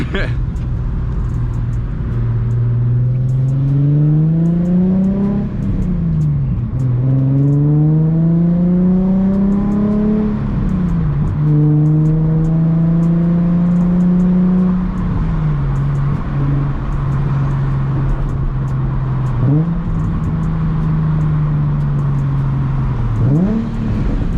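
A Nissan 350Z with a single exit exhaust revs hard through the gears from inside the cabin, its engine note climbing steeply in repeated pulls, each ending in a sharp drop at the shift, loud and steady.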